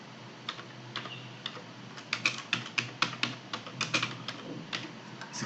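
Fingers type a file name on a computer keyboard: a quick irregular run of close, crisp key clicks, building to a busier burst in the middle and then tapering off, with no talking.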